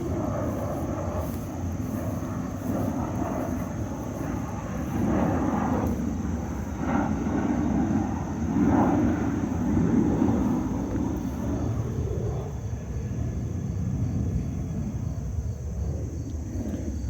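A fixed-wing airplane passes overhead above a beekeeping yard, a steady distant engine drone that swells slightly in the middle and fades, with faint outdoor ambience and no talk.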